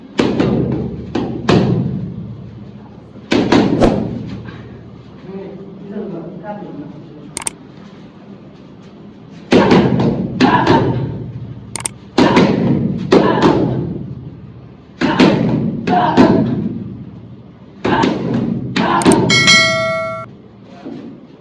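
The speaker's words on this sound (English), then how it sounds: "Jab cross, body shot, defense, cross, uppercut." Boxing punches thud against focus mitts during a jab, cross, body shot and uppercut drill, coming in loud bursts of several quick impacts with short pauses between combinations, while a coach's voice calls out the strikes.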